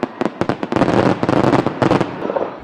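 WEBN fireworks display in Cincinnati over Labor Day weekend, with a dense, rapid run of loud sharp bursts and cracks that crowd together, then a few more spaced pops as it trails off.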